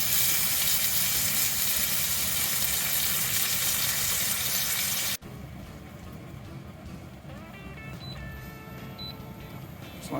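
Sauce made with grass-fed beef bone broth sizzles and bubbles loudly in a pan, the frying hiss dropping abruptly halfway through to a quieter simmer with faint clinks.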